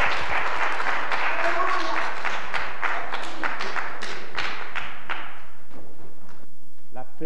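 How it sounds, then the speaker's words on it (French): Brief applause from a church congregation, scattered sharp claps that build and then thin out, fading to near silence over several seconds. "Applaudissons le Seigneur."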